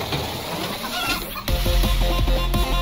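A chicken clucks in the Friday Night Funkin' video game, a run of loud rhythmic clucks and squawks over game music, following a busier mixed passage.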